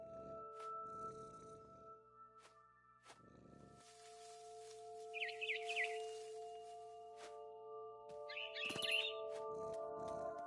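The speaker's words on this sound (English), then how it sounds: "Then I heard chirping outside my window. It was a barn swallow going back to her nest." A barn swallow in the game What Remains of Edith Finch chirps in short, bright bursts, a few calls spaced apart over a soft ambient game backdrop with sustained tones, fairly faint.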